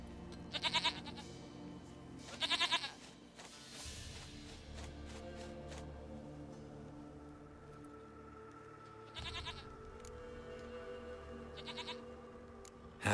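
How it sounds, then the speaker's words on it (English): A goat in The Witcher 3 bleats in short loud bursts, two close together early and two more later, over quiet game ambience and low background tones. "Me encontré una cabra."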